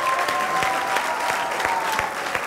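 Audience applause on a sports talk show, a steady dense wash of clapping from a studio crowd, loud and continuous throughout with no speech over it.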